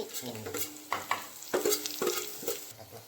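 Gravy goes into a frying paneer bhaji, and a spoon stirs it through the hot pan. Short scraping strokes come in an uneven rhythm over a low, steady sizzle, close and moderately loud.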